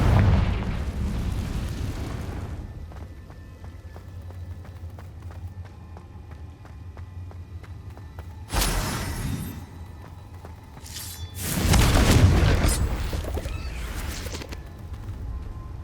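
Confringo fire spell blasts in the Hogwarts Legacy video game, two loud bursting explosions heard amid ongoing game ambience and low rumble, separated by a quieter stretch.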